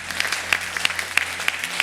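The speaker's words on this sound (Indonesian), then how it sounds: "Tepuk tangan buat Tuhan Allah kita." A church congregation claps in response to the pastor, with sharp individual claps standing out over a softer spread of hands and a faint low hum underneath.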